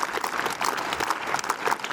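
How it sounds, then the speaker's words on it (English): At a school investiture ceremony, an audience gives continuous, dense applause, many hands clapping together at a steady, even level throughout. "Please give a huge round of applause for the revered personality."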